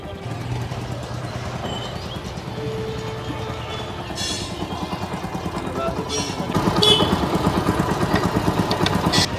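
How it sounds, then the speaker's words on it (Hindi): An engine brought to a mechanic's workshop for an internal noise runs steadily with a rough, pulsing idle and some clatter, growing a little louder toward the end, with voices talking nearby. "मिस्त्री जी, इंजन के अंदर आवाज आ रही है, इसको चेक करो।"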